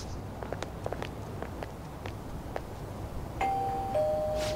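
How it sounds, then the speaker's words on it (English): A doorbell chimes at Madarame's house in Persona 5, two clear electronic tones sounding one after another after a stretch of soft footsteps and faint tapping. "Someone just ring the damn bell."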